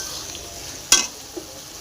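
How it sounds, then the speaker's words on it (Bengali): Spice paste of ginger, cumin paste, tomato and nigella seeds fries and is stirred in a wok, a steady low sizzle broken by one sharp scrape of the spoon near the middle and a softer knock after. "নিয়ে মশলাটাকে ভালো করে কষে নেব"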